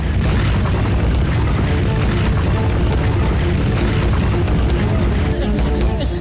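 A huge cartoon boulder rolls through a tunnel with a continuous, heavy rumbling roar that fills the whole stretch at steady high loudness, with no letup.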